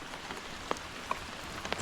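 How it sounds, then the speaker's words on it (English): Rain falls on a river during a fishing trip, a soft steady patter of drops on the water with a few sharper close plinks, faint and without talk. "Now the rain's coming down."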